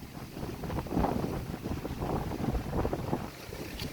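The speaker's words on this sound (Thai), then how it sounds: "เสียงลมพัดวูดไปท่าน" Wind gusting across dry rice paddies in rural Laos during the dry season, a steady rushing and buffeting roar that swells and eases, close and fairly loud against the microphone, with no voices.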